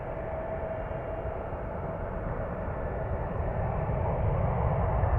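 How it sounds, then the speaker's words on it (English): United Airlines flight 926, an airliner bound for Frankfurt, roars steadily overhead as a broad, continuous engine rumble that swells slightly toward the end, with no talk. "This one flying to Frankfurt. United Airlines 926."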